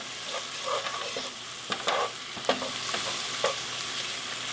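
Mushrooms with garlic and thyme sautéing in a pan after the heat is turned off, giving a soft continuous sizzle with intermittent spoon taps and stirring scrapes.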